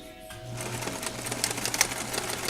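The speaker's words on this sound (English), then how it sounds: "I'm going to sew the whole seam together and end with the lock stitch." Sewing machine running steadily while stitching a full seam in black thread and finishing with a lock stitch, a close continuous motor whir with rapid needle clatter throughout, no talking.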